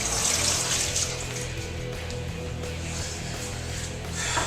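Tap water runs steadily into a kitchen sink while something is rinsed under it, a continuous close splashing hiss with a brief brighter gush at the start and end, no voices.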